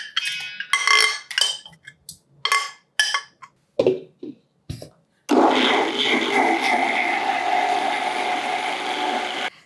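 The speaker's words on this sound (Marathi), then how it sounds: "म्हणजे हे सगळं एकत्रच मिक्सरला फिरवून घेऊ" A mixer grinder blends poha dosa batter with no added water, a steady loud motor whir that runs continuously after several short bursts of starting and stopping.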